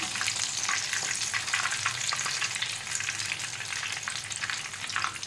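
Chicken drumsticks frying in oil over a low gas flame, a constant close crackling sizzle with faint pops and light utensil scrapes, no voices.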